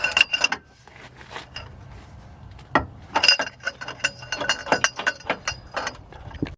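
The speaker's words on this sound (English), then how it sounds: "right here we have a 24 millimeter bolt. I like to just loosen them up." A ratchet wrench works loose a 24 millimeter bolt on a 2003 Dodge Neon during control arm replacement, giving bursts of sharp metallic clicks and clanks in an irregular rhythm, close and fairly loud.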